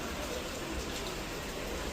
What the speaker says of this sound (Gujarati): આજે વળી પાછો વરસાદ ચાલુ થઈ ગયો છે